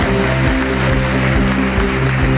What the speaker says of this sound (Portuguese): aplauda Jesus se você pode.